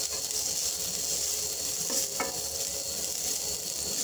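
Grated coconut roasting in a pan, a steady close sizzle with faint stirring scrapes, alone with no talk.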